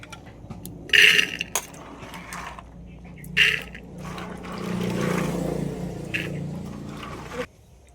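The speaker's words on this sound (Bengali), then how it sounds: "এবার আমি এই মটরটা এখানে প্রেসার কুকার নিয়েছি, প্রেসার কুকারের মধ্যে দিয়ে দেবো।" Soaked dried peas tipped into a metal pressure cooker for chicken ghugni, giving two bright rattling bursts near the start and middle, then a softer scraping, shuffling spill of peas against the pot.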